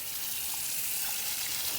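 Water from a hose runs in a steady hissing spray while a horse is bathed, a continuous close wash of sound with no voices.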